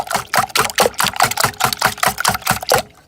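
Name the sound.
whisking evaporated milk for macaroni and cheese base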